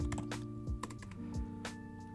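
Rapid keystrokes on a computer keyboard while a new username is typed into a MikroTik router setup, a quick run of close, crisp clicks over a faint steady hum.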